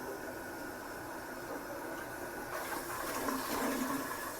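An old hotel toilet with a big tank, 1970s fixtures, flushes slowly at a Hampton Inn in Baton Rouge: a long hissing rush of water that swells and churns louder midway through, nearby and unaccompanied.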